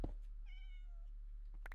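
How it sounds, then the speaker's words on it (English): A cat gives a single clear, drawn-out meow partway through, close and fairly quiet, against a low steady hum with brief clicks at the start and end. "Listen to that cute kitty."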